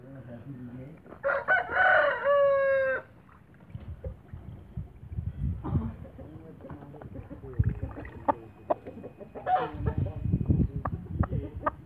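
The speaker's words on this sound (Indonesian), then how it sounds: "Ini ayam dari Bang Didi." A Bangkok fighting rooster crows once, loud and close, while being bathed, followed by splashing water, scattered clucks and voices in the background.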